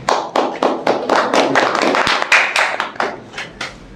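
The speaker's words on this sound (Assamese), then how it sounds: "আজি আমি খেলটো আৰম্ভ কৰিবলৈ লৈছোঁ, গতিকে সকলোৰে পৰা এটা হাত চাপৰি বিচাৰিছোঁ" An audience claps to open a chili-eating game, giving a steady run of about a dozen sharp, loud, close claps in quick rhythm across the whole stretch.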